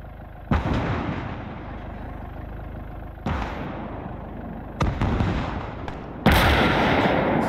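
Artillery guns firing in the World War II strategy game Call to Arms: Gates of Hell, Ostfront, four heavy booming shots spaced a second or two apart, each with a rolling tail, loud and unaccompanied by talk.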